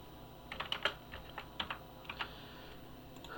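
Quiet clicking of keys on a computer keyboard, a few short irregular bursts of typing, close but faint, with no one talking.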